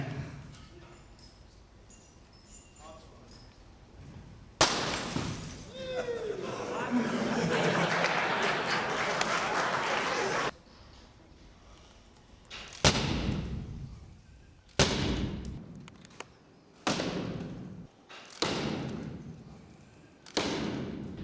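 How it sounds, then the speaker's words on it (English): A hammer smacking protective security-laminated car window glass, a series of sharp loud impacts spaced a couple of seconds apart, with a longer noisy burst earlier and quiet talk in the background between blows. "use a hammer to try and see if it can penetrate, which is that window over there, and then the protective glass"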